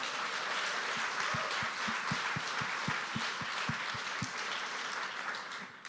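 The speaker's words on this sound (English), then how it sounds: "Round of applause for all of you guys for coming." Audience applauding at a live in-person debate, a dense wash of clapping from a crowd with a few distinct sharp claps standing out, steady for several seconds before tapering off.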